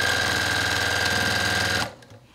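A sewing machine runs loud and close while stitching bias binding onto a Christmas tree quilt, a dense, fast mechanical whir that cuts off abruptly near the end, leaving faint handling rustle.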